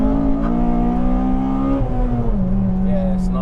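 An FD2 Honda Civic Type R engine revs high with a steady, rising tone that drops back partway through, heard close and loud.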